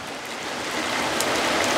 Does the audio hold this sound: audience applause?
no